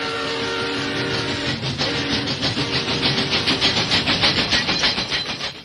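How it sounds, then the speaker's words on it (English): A train crosses a road, rumbling loudly and steadily with a rhythmic clickety-clack of wheels that grows more pronounced, with no voices. "train was crossing the road."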